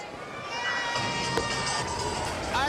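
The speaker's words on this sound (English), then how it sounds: "listen to the reaction of the crowd when this young lady comes out" Pro women's wrestling crowd reacting to a wrestler's entrance, a swelling roar of cheering and shouting voices that grows louder and stays dense and continuous.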